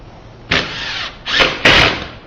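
A power drill countersinks screws into a cosplay platform shoe in three close, loud bursts of whirring, the second and third revving higher, with short pauses between and no talking.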